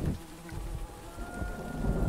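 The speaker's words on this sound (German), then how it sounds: "Die Bienen beschützen ihren Bienenstock." Bees buzzing around a beehive in the Grim Legends video game, a steady low droning hum that fills the scene without pause, with no talking.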